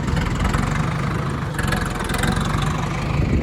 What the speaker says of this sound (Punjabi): ਪਹਿਲੀ ਵਾਰ ਚਲਾ ਰਹਾ ਮੁੰਡਾ ਟਰੈਕਟਰ